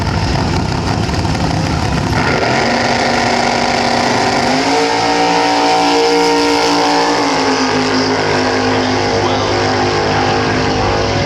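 A top fuel nitro dragster roars down the strip at Willowbank Raceway, a loud, unbroken engine blast that shifts in pitch as it passes, with a commentator's voice faintly underneath.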